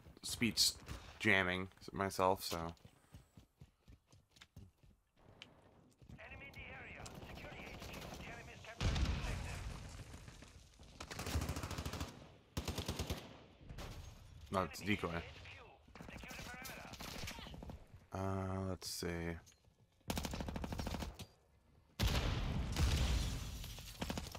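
An integrally suppressed Chimera assault rifle fires in a video game in repeated short bursts of muffled, thudding shots spaced across the stretch, mixed with game effects while someone talks over much of it.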